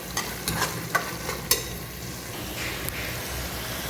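Mutton frying for gravy in a pan, sizzling steadily while a spoon stirs and scrapes through it in several soft strokes, close and alone with no voices.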